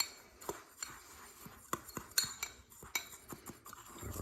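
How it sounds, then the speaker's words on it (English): Baking soda and salt stirred together in a container, with light, irregular clinks and scrapes of a utensil against the sides, close and fairly quiet. "You're going to mix it up. Got to mix it up real good here."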